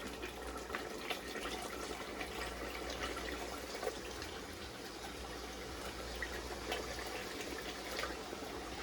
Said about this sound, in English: I'm going to add the water to the side of the pot.